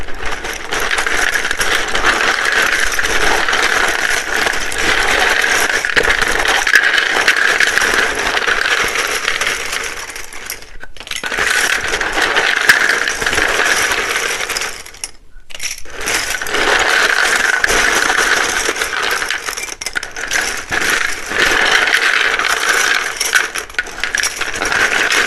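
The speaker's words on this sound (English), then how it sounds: "It can be very loud when I shuffle these." A deck of tarot cards is shuffled again and again in a long run of dense, loud riffling and clattering, close up, with two brief pauses between bursts and no talk.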